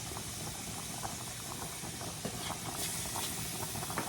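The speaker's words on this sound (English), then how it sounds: "you want this to simmer for 10 to 15 minutes until the sauce has thickened" Tomato sauce of chopped, peeled and seeded tomatoes with salt and pepper bubbling in a pan, a steady close hiss with soft popping and small rattles that runs alone without a break.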